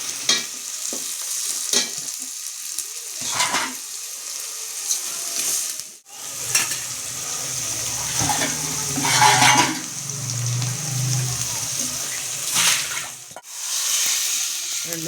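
Coriander and mint leaves sautéing in a pan for coconut rice: steady close sizzling with repeated scraping stirs and a few sharp knocks of the spoon, sometimes growing louder with quieter gaps between strokes.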